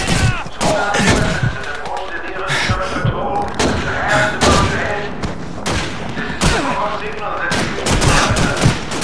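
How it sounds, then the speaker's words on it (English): Grenade blasts and gunfire in Call of Duty 2: dense, loud bursts of rapid shots and heavy booming thuds that hit one after another without pause, close and continuous. "Jeez, quit throwing all these grenades in here."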